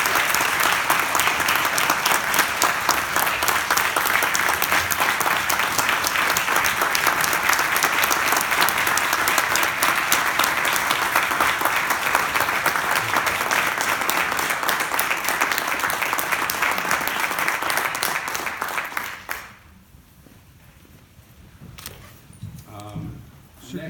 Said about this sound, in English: we give these families a round of applause